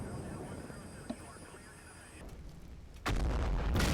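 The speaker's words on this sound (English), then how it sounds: "At this point, the F-15s are starting to drop bombs" Bombs from F-15 jets explode in the Combat Mission: Black Sea war game, with a heavy, sustained rumbling blast arriving late after quieter ambient battlefield noise.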